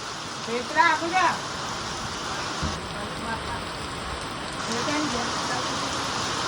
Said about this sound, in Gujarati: તાબડતોડ વરસાદ પડે જો આ અવાજ